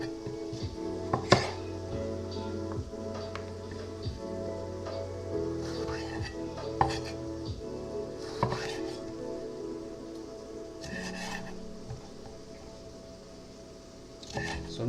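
A knife cuts vegetables into quarters on a board, giving sparse, irregular chopping knocks spread across the stretch, with a voice speaking in between.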